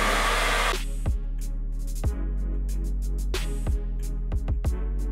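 Hair dryer blowing steadily on hair that has been curly, a loud continuous whoosh broken by several short dips and bumps as the airflow shifts or is briefly interrupted, with no talking.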